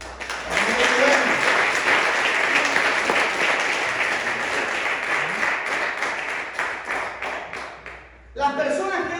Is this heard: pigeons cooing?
no